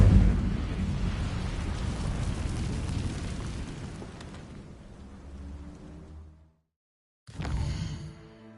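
Incendio fire spell cast in Hogwarts Legacy: a loud, broad whooshing burst of flame that roars and slowly fades over several seconds, drops to brief silence, then another fiery burst flares up near the end.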